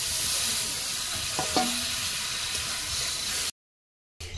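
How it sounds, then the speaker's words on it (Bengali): Water goes into a pan of spiced frying potatoes, a dense steady sizzle with a few stirring clinks, cutting out abruptly near the end before resuming briefly. "এবারে জল দিয়ে দিচ্ছি।"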